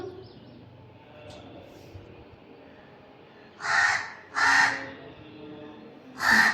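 Three loud, harsh crow caws ring out close by after a quiet stretch, spaced a second or two apart, with faint bird chatter in the background.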